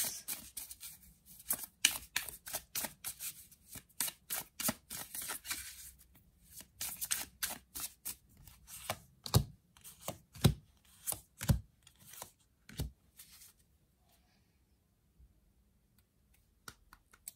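Tarot cards are shuffled and slapped down onto a table in a quiet room, making a run of crisp, close snaps and soft riffles that cluster densely, then thin out to a few sharper slaps before falling silent.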